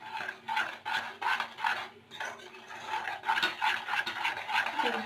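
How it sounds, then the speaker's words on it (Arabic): A spoon stirs chocolate into cream in a bowl, soft rhythmic scraping and swishing strokes repeating at an even pace, close and fairly quiet with no talking. "نحركو هاد الشوكولا والكريمه."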